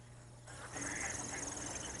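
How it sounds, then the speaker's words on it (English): Dabbling ducks quack faintly and sporadically over the freshwater impoundments of Blackwater National Wildlife Refuge, distant calls against a soft, steady outdoor background. "Several species of ducks, known as dabblers, feed on vegetation and small invertebrates that live on the bottom of these freshwater impoundments"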